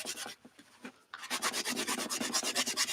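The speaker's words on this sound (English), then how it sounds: "All right, let's rub the resist off here." Dry rubbing of rubber cement resist off an art journal page, a rapid run of scratchy back-and-forth strokes, near and steady, after a brief quieter stretch with light scuffs.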